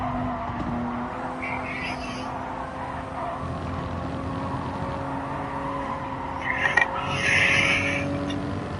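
A race car engine drones steadily in the GT Sport video game, a hard-to-drive car lapping with a brief tire skid squeal near the end, heard alone without talk.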